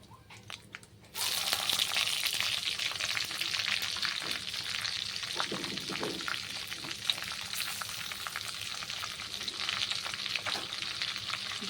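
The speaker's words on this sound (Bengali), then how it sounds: "আর এখন আমি ওই অবশিষ্ট তেলের মধ্যেই দিয়ে দিচ্ছি বাটার।" Butter sizzles and fries in the leftover oil from frying chicken in a home kitchen pan, starting abruptly as it hits the fat and settling into a steady, bright crackling hiss with occasional stirring scrapes.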